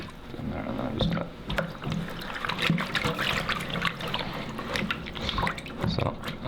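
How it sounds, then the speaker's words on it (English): Coat canvas soaking in a basin of lukewarm water, with light trickling, dribbling and sloshing sounds close by, under a person talking throughout. "We'll soak it in sort of like lukewarm water."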